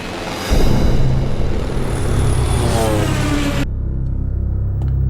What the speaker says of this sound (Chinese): 日军出动了50多架飞机，武汉3镇同时被炸